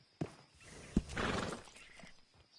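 A horse in Red Dead Redemption 2 gives a short whinny and snort, with a couple of hoof knocks in a quiet blacksmith shop setting, fairly faint and alone.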